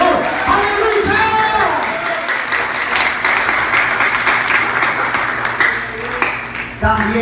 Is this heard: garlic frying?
no